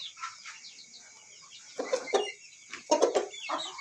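A hen clucks in short, close bursts of soft, throaty calls, irregular and fairly quiet, with small chirps between them at a bird breeder's yard.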